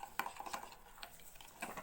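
Millet grains are washed in warm water in a bowl for a Kazakh dish, giving soft irregular swishes and small clinking scrapes, quiet and close.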